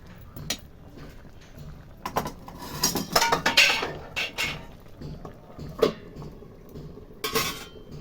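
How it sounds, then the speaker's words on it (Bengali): A metal lid goes onto a cooking pot of shukto, a Bengali vegetable dish with fried lentil dumplings, giving scattered clinks and clatters of metal cookware that come up close and fairly loud in short bursts. "আমি ঢাকা দিয়ে দেব এটাকে সুন্দর করে।"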